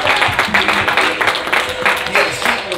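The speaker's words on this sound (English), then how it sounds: "clap your hands, shout hallelujah" A church congregation at a Sunday service claps hands together in a lively, sustained burst of applause, with voices and crowd noise mixed underneath.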